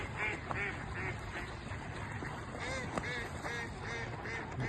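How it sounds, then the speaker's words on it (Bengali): A flock of wild ducks quacks continuously, with many overlapping calls repeating at close to medium range against a steady outdoor background, with no talking. "শুধু হাঁসের কিল্লা।"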